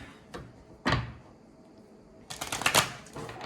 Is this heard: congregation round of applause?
no